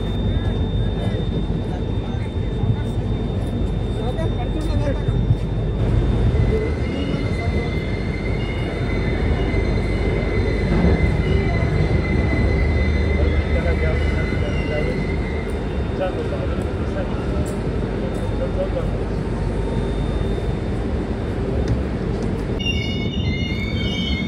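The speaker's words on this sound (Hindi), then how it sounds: "अपने निर्धारित समय से करीब 10 मिनट की देरी से हमारी जो ट्रेन है वो पूर्णा जंक्शन से भी डिपार्ट हो चुकी है" The Devagiri Express rolls out of Purna Junction, its steady rumble and wheel noise filling the whole stretch, with a thin high squeal running through the carriage and a voice talking over it.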